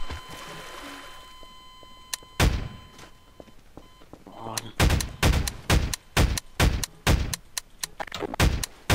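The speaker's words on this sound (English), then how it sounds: "Just blow up their ship with your musket." Musket and ship cannon fire in a Garry's Mod pirate ship battle, with a few scattered heavy thuds early on and then a rapid, loud string of about a dozen shots close by, evenly paced near the end.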